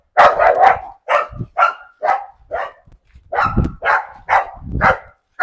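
German shepherd barking repeatedly during a training session, a string of loud, close barks in quick bursts with short gaps between them, heard alone.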